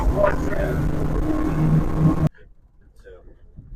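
A speedboat fitted with a Sharrow propeller runs at about 45 knots and 5,100 RPM, giving a loud, steady engine drone with rushing water and wind that cuts off abruptly partway through, leaving only faint low noise.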